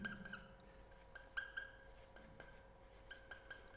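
Chalk or marker writing on a classroom board during a physics lesson, with faint scratchy strokes and light taps in short bursts over a quiet room.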